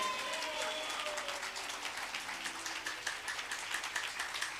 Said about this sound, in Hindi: मैं कहती हूँ जोरदार ताली बजाओ यीशु